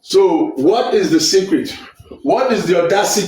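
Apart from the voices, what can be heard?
No everyday noise stands out behind the speech.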